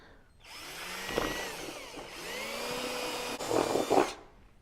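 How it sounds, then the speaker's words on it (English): A power drill whines steadily for several seconds, pitch dipping as it bites into wood, drilling through the center, with a rougher grinding burst near the end before stopping. "I'm going to drill through the center"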